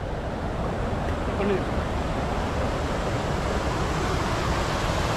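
Water plunges at Napne waterfall in Maharashtra, near a glass bridge, as a dense, unbroken roar that fills the scene. The rush stays loud and even throughout, with some wind buffeting the microphone.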